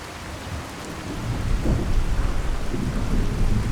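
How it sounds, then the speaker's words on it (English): Heavy rain pours steadily in the Fallout 4 video game, a dense, loud hiss with a low rumble of thunder swelling beneath it partway through, with no voices. "the rain is so loud"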